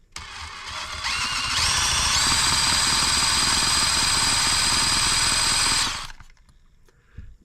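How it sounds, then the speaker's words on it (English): An electric drill with a starter attachment whines up to speed and spins a Microcosm H74 model engine over for several seconds at a steady, loud pitch, then stops abruptly without the engine drawing fuel. "We have our drill and our drill start attachment. We're going to turn it over"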